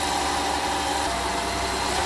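Construction machinery engines at a riverbank embankment site along a river run in a continuous mid-pitched idle and rumble, steady and moderately close with no voices.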